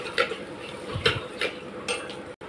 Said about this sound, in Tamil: பூண்டை சேர்த்துட்டு ஒரு வதக்கு நல்லா வதக்கிக்கோங்க